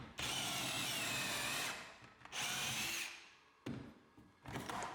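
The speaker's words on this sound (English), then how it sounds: "Then I drilled pocket holes to assemble." A power drill bores pocket holes in wood in three close, loud bursts, each a high whine that spins up, holds, then winds down, with short pauses between.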